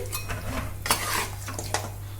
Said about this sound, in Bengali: ভালো করে তেলের সঙ্গে কষে নিতে হবে চিকেনটাকে